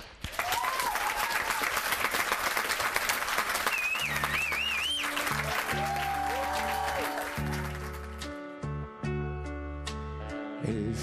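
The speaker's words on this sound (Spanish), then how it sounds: "¡Un aplauso!" Studio audience applause on a television program, a loud sustained burst of many hands, with a voice briefly calling out over it, then thinning as music with low sustained tones begins underneath.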